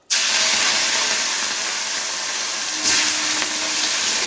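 Prawns fry in hot oil with turmeric and salt, producing a loud, steady broadband sizzle that starts abruptly and holds throughout, with a brief surge of crackling partway in.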